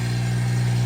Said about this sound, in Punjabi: ਤਿੰਨ ਸਿਲੰਡਰ ਇੰਜਨ ਹੈ 4x4